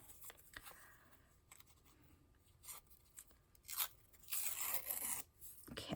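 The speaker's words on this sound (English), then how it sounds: "so I'm going to tear some of that off." Paper being torn in short, uneven rips and crackles, quiet and close, with a louder, longer tear near the end and no talking.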